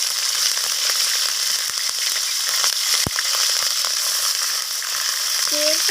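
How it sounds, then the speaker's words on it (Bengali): Small shrimp dropped into hot oil in a pan, frying with a loud, continuous crackling sizzle that holds steady throughout, with one sharp pop near the middle. "তো তেলটা এখানে গরম হয়ে এসেছে। এরপর এর মধ্যে দিয়ে দিলাম কুচো"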